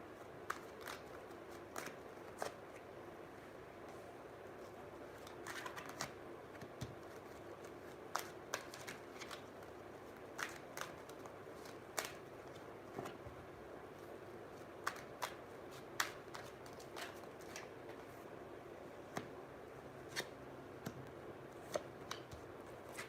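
Tarot cards are shuffled and drawn at close range, with soft, quiet taps, flicks and riffling snaps arriving at irregular intervals over a faint background, with no speech.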